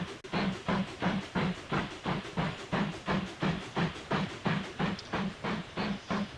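A steam train in the Mashinky video game pulls away with evenly spaced, rhythmic chuffs and hisses, loud and close, steady throughout.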